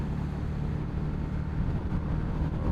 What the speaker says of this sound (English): I might be revving it a little high right now.